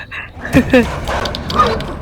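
A dog barks in the video game Inside: two quick sharp yips close together, followed by a softer whimpering sound.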